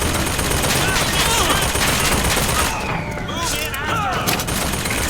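Rapid gunfire in BioShock Infinite fills a busy, loud game mix, with overlapping bursts of shots and music running continuously throughout.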